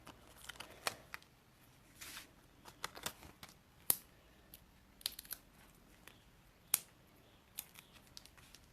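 Scissors snip along the edges of a paper craft piece, a quiet series of irregular close cuts with occasional sharper snips and light paper rustle.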